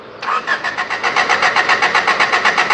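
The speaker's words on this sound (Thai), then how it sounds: "เอาเลยสตาร์ทเลย" A car engine that won't start is cranked by the starter, a steady, loud, rhythmic chugging of even pulses that never catches or settles into an idle, heard close with no talk.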